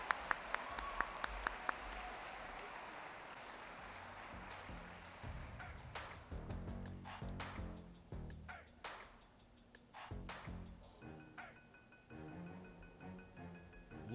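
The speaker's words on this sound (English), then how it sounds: "let's give another big round of applause for the 2022 Courage Award recipient, Grace Dean" A ballroom crowd at a high school sports awards ceremony applauds the 2022 Courage Award recipient, sustained clapping with scattered sharp claps and cheers, fairly loud and steady before tapering off.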